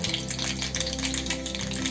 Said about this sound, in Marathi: हे सगळं छान तडतडायला हवं